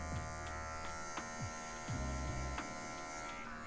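Electric hair clipper held with just its tip to soften a mid fade line during a haircut, a steady close buzzing hum with small shifts in pitch as the blade touches the hair, no talking.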